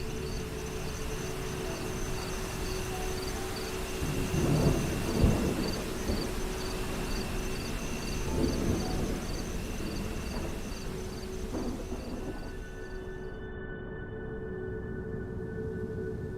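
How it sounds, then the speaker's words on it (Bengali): At 10:30 at night, thunder rolls in a village rainstorm beside a small roadside tea stall, several deep rumbles rising and fading over steady rain hiss and a constant chorus of chirping crickets. "আকাশ জুড়ে মেঘ ডাকছে"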